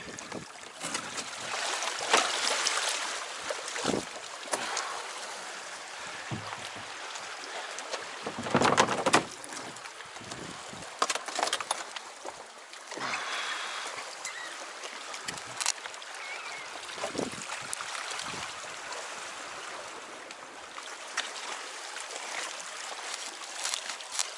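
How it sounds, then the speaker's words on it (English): Kayak pushed through shallow water into a sea cave on the north coast of Waiheke Island, with scattered splashes, scrapes and sloshing that rise and fall over a bed of gentle lapping and trickling water. "So I'll just step out, bring the kayak through."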